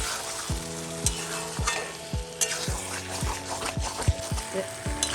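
Mutton sautéing in oil in a pan, with a bright continuous sizzle and regular rhythmic scrapes of a spatula stirring the meat, loud and close.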